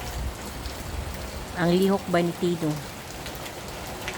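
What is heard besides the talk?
rain falling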